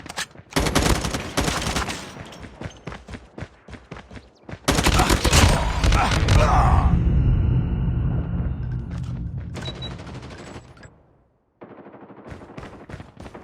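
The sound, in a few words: gunfire in the video game Call of Duty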